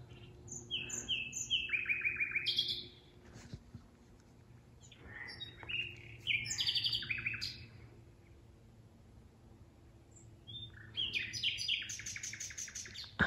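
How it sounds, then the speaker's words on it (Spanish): Small birds chirp at night in quick, high bursts that come and go in several clusters, separated by quiet pauses over a faint low hum. "Pero óigame esos pajaritos."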